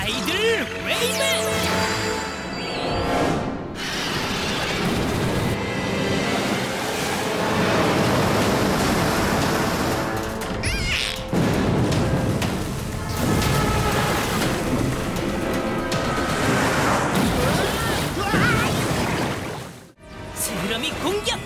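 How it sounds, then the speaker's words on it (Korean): A tidal wave attack effect in a dinosaur robot cartoon: a loud, continuous roar of crashing water and thunder-like rumble lasting many seconds, with a brief break near the end. "일어나라, 거대한 파도여!"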